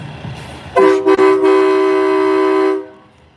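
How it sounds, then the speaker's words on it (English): A car horn blares close by in a traffic jam at a St. Patrick's Day parade in Providence, Rhode Island: a couple of quick toots, then one long sustained honk over low traffic rumble. "The traffic jam is at the State House. There's no need to honk."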